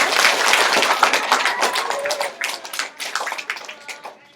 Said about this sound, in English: Round of applause for Sam.